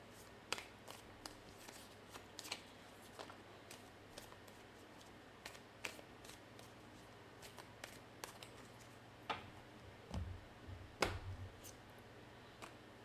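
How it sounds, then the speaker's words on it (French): Tarot cards are shuffled and drawn in a quiet room, soft scattered flicks and taps with a few sharper card snaps near the end. "Je vais chercher une dernière carte."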